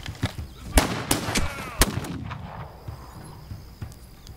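Gunshots ring out in the video game This Land is My Land, several sharp cracks spaced irregularly over a few seconds, the loudest early on, followed by fainter scattered bangs over background noise.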